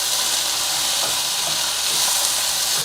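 Chopped tomatoes hit a hot pan of frying onions, garlic and ginger for a home-style Indian chicken curry, giving a loud, steady sizzle and hiss with faint stirring, close up and without talk.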